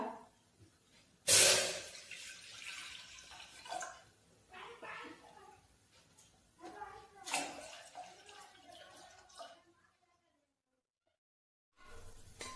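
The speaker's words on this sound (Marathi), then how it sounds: "आता कुकर मध्ये पाणी टाकून घेऊया।" Water is poured into a pressure cooker on a gas stove in a home kitchen, giving two short splashing bursts among quieter clinks and handling noises, followed by a near-silent pause.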